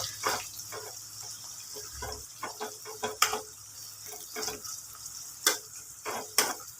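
Capsicum cooks for pulao with a soft, continuous sizzle, broken by irregular scraping stirs and clinks of a utensil against the pan, close by and quiet.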